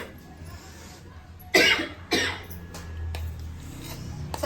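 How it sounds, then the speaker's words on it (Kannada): Two sharp coughs break out in quick succession in a kitchen while a spicy dish with coconut, coriander and pomegranate is mixed, set off by pungent spice fumes, followed by quieter breathy sounds against a low background hum. "ಅದೇ ಘಾಟ್ ಜಾಸ್ತಿ ಕೊಟ್ಬಿಟ್ಟಿದ್ದಾರೆ, ಅದಕ್ಕೆ ಕೆಮ್ಮು ಬರ್ತಿದೆ ನಮಗೆ"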